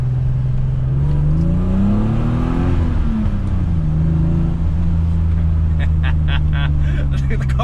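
A 1988 BMW E28 with an M30 engine and Magnaflow exhaust pulls through its gears, its engine note climbing and dropping under continuous close cabin rumble with the windows down, and a voice talks over it.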